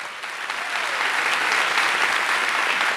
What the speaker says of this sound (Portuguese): Queria dar uma salva de palmas especial para eles.